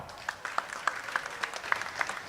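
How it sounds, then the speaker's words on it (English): Thin, scattered applause at a swimming championship poolside for the technical director, with a few distinct claps standing out in a loose, uneven rhythm over a hollow background, fairly distant and modest in volume. "please do give a big round of applause for the Technical Director, Jane Howe"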